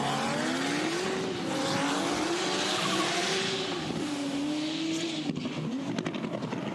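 At a drift series qualifying run, a drift car with a JZ engine revs hard, its pitch rising and falling, while the tires squeal through a long slide, loud and fairly close.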